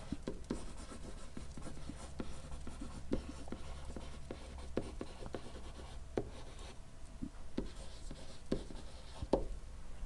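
A pen or pencil writes an equation by hand on paper, a faint, steady scratching with small taps at stroke ends, continuing quietly for about ten seconds with no voices.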